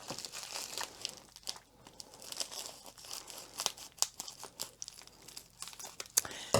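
Crinkling plastic packaging cut open with scissors, sharp snips and tearing sounds, close up, in irregular bursts with no talking.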